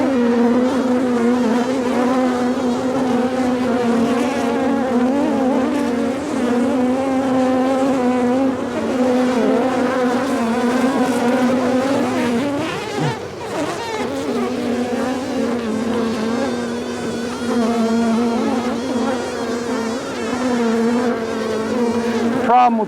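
A swarm of honeybees in a garden cart makes a dense, steady buzzing hum, close and loud throughout. There is a brief dip and rustle midway, and a voice speaks faintly now and then.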